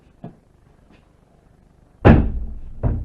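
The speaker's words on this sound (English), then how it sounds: "the other doors that constantly slam up here whenever we're up here" A heavy door slams shut in the old Scottish Rite Building, a single loud, booming impact with a short rattling tail, preceded by faint knocks and a softer thud.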